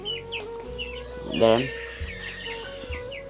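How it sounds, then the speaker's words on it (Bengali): A Colorbag chicken held in the hands lets out one loud, short clucking squawk midway through. Quieter rustling and faint chirps surround it. "একটা মুরগি আমি ধরে দেখাচ্ছি"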